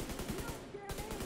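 Rapid gunfire bursts in The Division 2, a string of sharp repeated shots with a short pause, close and loud over game ambience with faint voice underneath.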